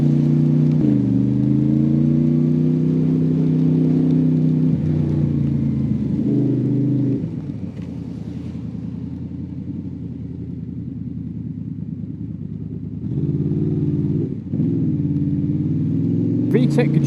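A Honda Jazz engine with VTEC drones nearby and rises and falls in pitch. It drops to a lower hum midway, then comes back up, with people talking over it.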